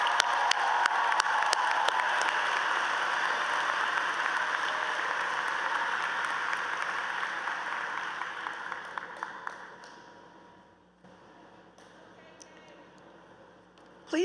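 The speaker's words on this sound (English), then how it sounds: "One more round of applause for today's graduates." A commencement ceremony crowd applauds its graduates, a broad sustained roar of clapping that holds steady for most of the stretch and then thins and fades away near the end, leaving a quieter hall.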